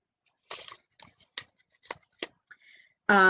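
Several short, crisp snips of scissors cutting paper, spaced irregularly and close by, ending with a brief louder burst of voice.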